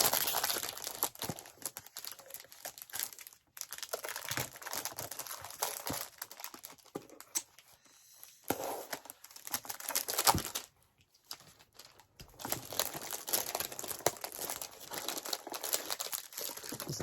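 Tough plastic packaging being torn open by hand, a close, continuous crinkling and crackling with sharp rips and brief pauses throughout.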